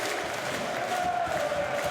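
A home stadium crowd at Leicester City's King Power Stadium roars and applauds a second goal against Sheffield Wednesday, a steady, dense wall of cheering and clapping that holds at full strength throughout.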